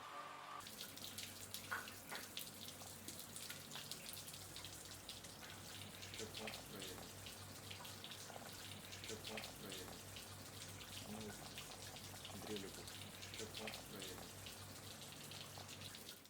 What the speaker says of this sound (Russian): промываем систему охлаждения, подавая воду в отверстие термостата и подавая воду в трубку охлаждения